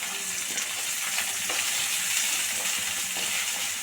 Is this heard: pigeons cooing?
no